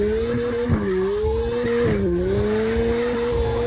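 Cars drift in the video game CarX Drift Racing Online, a sustained tire squeal that wavers in pitch over a continuous engine drone, loud and close, with no talking.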